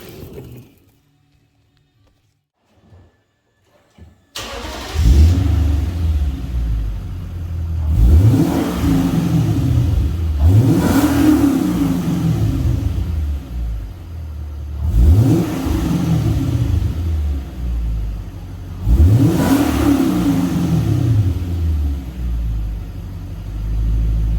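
Lexus LS460 with a modified exhaust and crushed factory gaskets revs in four strong bursts after a few seconds of near silence, each rise and fall loud and close with a deep rumbling note.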